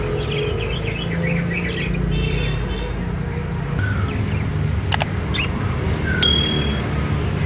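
Parakeets chirping at a bird-selling kiosk, with several short, high tweets scattered over steady background noise, fairly close, plus a few sharper calls near the end.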